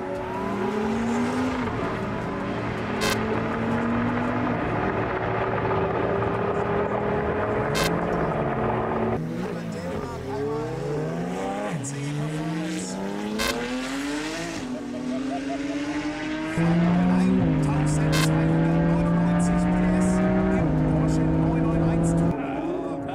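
A twin-supercharged race car engine screams at high speed, over 300 km/h, loud and continuous, its pitch climbing and dropping through repeated gear changes and a sharp rise near the end.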